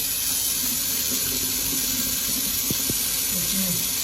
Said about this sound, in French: On vous donne la grande eau.